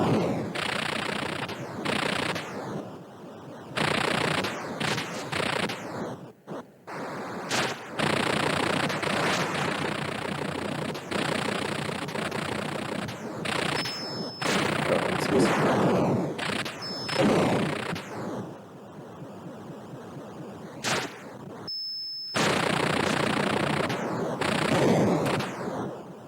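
Rapid bursts of missile and gunfire from the Atari 2600 game Radar Lock, harsh static-like blasts that start and cut off repeatedly, loud and close, with a few short gaps of silence between volleys.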